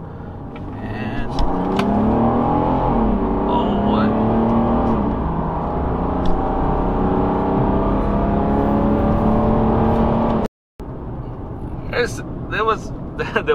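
A Mercedes-Benz W210 E300td diesel with a tuned ECU accelerating hard on an open road, the engine note climbing steadily and loudly, cut by a brief gear-change gap before pulling again. Someone speaks briefly over it.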